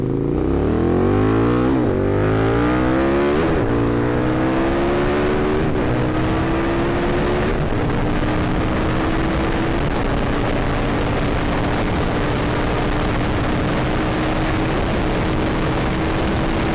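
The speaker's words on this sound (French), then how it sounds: "On va tester la vitesse de pointe du Super Duke contre la vitesse de pointe du 690." A KTM 1290 Super Duke R motorcycle accelerates hard toward top speed, its engine loud and close, climbing in pitch through several gear shifts before settling into a sustained high-speed drone with heavy wind roar.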